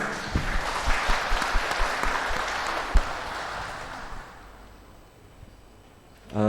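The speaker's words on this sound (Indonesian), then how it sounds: "tepuk tangan untuk kita semua" Applause from a congregation at a Buddhist devotional service, a dense crackle of clapping that is loud at first, then thins and fades to near quiet over about six seconds.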